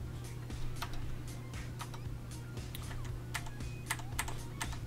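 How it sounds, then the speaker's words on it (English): Fast clacky keystrokes on a mechanical computer keyboard, sharp distinct clicks in an uneven rapid rhythm over a steady low hum, close and fairly quiet. "I have a mechanical keyboard, so that's why you're hearing me smash on the keys"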